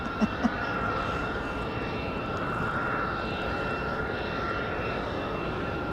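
A Republic Airways jet at Raleigh-Durham International Airport at night makes a steady, broad engine roar that holds evenly throughout, fairly distant and continuous, with no one talking.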